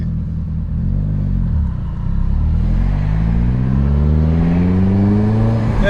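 A turbocharged car with a GTX-3576r gen2 turbo, GSC S2 cams and 93 octane fuel, its engine revving loud and close, rising in pitch as the turbo spools with a climbing whir and deep rumble.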